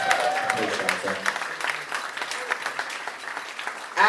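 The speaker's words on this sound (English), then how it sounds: "Round of applause for Joel Ryder, please" An audience at a drag show at The RVT claps in sustained applause for a performer, with a host's voice speaking over the clapping throughout.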